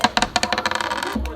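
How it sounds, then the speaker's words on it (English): Dice clattering on a hard surface in a kindergarten math classroom, a quick run of sharp rattling clicks and taps that bounce and settle over about a second, close and fairly loud. "so roll the dice"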